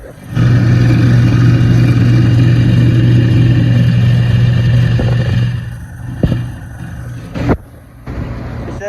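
An exhaust system motor runs with a steady loud hum and droning tone, then winds down and drops lower, with a few clanks and knocks near the end.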